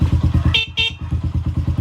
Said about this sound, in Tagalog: Ito yung stock horn natin.